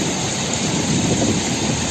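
Steady rain falling in a village makes a dense, even hiss that continues throughout the clip, with no talking over it.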